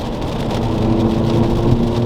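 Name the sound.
F56 Mini Cooper S turbo engine accelerating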